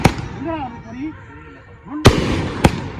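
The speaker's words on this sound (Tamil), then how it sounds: "வெடி பாக்குறதுக்காண்டி அவளோட காத்திருக்காங்க." Three loud, sharp firecracker bangs at a wedding, one at the start and two close together near the end, with people talking in the pause between them.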